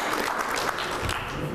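A studio audience on a television game show gives a short burst of applause, a steady wash of clapping that fades out abruptly at the end.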